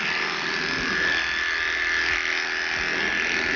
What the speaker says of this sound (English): Turn on the clipper and then gently go behind her ears towards that elbow.